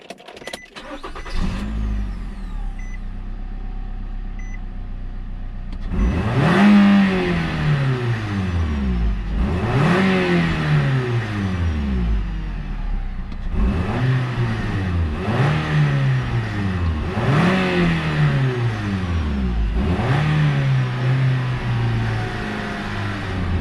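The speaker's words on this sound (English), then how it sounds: "Let me see if it starts up right away." A Nissan Rogue engine with new spark plugs and ignition coils cranks and fires up, idles briefly, then revs up and down in several repeated loud surges close by.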